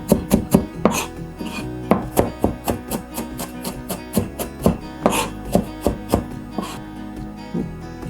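A sharp knife finely chops an onion on a cutting board, sharp rhythmic taps in quick bursts with short pauses, close and clear, no talking.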